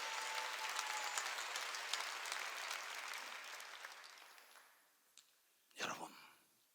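A church congregation applauds with dense, sustained clapping that gradually fades out, followed by a few scattered claps and a short final burst of noise.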